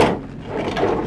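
A kitchen silverware drawer in a 2006 Newmar Essex RV slides open and shut up close, a quick wooden scrape and thud with no talking.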